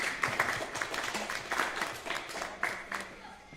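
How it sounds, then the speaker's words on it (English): Audience at a panel discussion on sustainable gastronomy clapping for a panelist, moderate scattered applause with uneven bursts, fairly quiet and slightly distant. "A round of applause for her."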